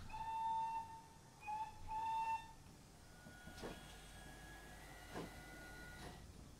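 A GWR pannier tank locomotive runs around to another platform at a station, opening with several loud steam whistle blasts followed by clanking, chuffing movement and sharp metallic knocks at a moderate distance, no talking.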